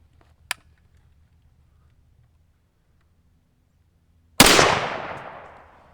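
An SKS rifle with a 20-inch barrel fires a single loud, sharp shot whose echo decays over about a second and a half. Before it there is a quiet outdoor lull with one small click.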